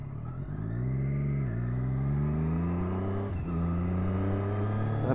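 A Triumph Daytona 675 sports motorcycle engine sings loud and close, its pitch climbing steadily through the gears with two brief dips at shifts, no voices over it.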